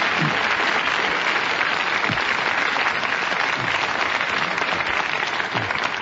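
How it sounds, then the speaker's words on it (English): Dense, loud applause from a radio panel-show studio audience fills the whole stretch, a constant wash of many hands clapping without a break. "So give it a good clap."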